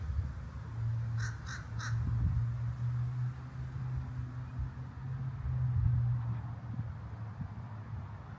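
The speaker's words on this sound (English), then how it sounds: "some beautiful birds flying by" Crow caws three times in quick succession early on, fairly clear against a steady low outdoor hum and a faint background drone that persists throughout.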